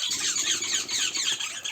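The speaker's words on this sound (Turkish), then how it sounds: "rozella papanlarının bağırışlarını duyuyorsunuz" Three rosella parakeets in an outdoor aviary during rain give dense, harsh, continuous squawking chatter over a steady hiss of rain.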